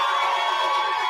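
A sold-out live comedy show crowd in Chicago cheers and shouts loudly in a dense, continuous roar of many voices.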